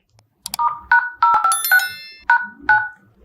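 Dial pad keypresses in the dialer app of a Poco phone: a quick run of about seven bright, short beep tones in uneven rhythm, clear and close with no talk.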